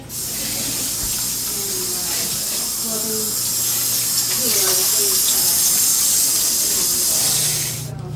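Tap water runs steadily for several seconds as a dish or item fished from a garbage can is rinsed at a kitchen sink, a constant hiss with light splashing in the foreground while a voice speaks now and then.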